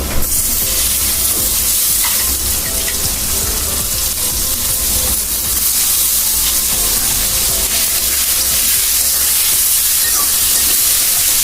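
Shrimp hitting a hot pan with salt and turmeric for a papaya and potato bhaji gives a loud, steady sizzling hiss that runs unbroken from start to finish, with no talking.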